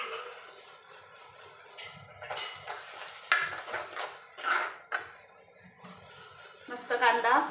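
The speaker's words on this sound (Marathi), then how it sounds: "मस्त कांदा ब्राऊन होईपर्यंत त्याला मस्त कलसून घ्यायचा." Onions for pav bhaji are stirred in a pan until browned, with a spoon scraping and clinking against the metal in irregular bursts that rise and fall in loudness.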